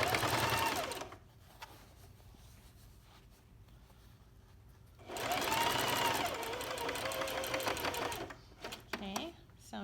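A sewing machine sews a half-inch seam around the edges of a bag lining in two close, steady runs of rapid stitching separated by a pause, with quiet talk and handling around them.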